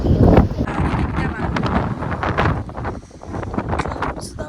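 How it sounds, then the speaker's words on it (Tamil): Strong wind at the Gateway of India in Mumbai buffets the microphone in loud, uneven gusts, rising and falling over several seconds. "பயங்கர காற்று, கிளவுட்ஸ் பயங்கரமாக இருக்குது."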